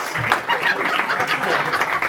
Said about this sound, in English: Let's clap it up for Vlad.